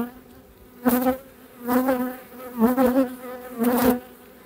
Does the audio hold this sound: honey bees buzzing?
yes